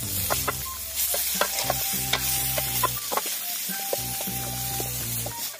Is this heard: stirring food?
yes